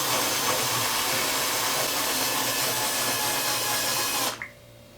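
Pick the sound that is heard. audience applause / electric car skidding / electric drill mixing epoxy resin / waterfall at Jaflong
electric drill mixing epoxy resin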